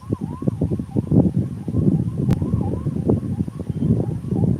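An emergency vehicle siren from a fire engine or ambulance gives a faint, quick-sweeping warble, partly masked by loud rhythmic thumping and a busy background.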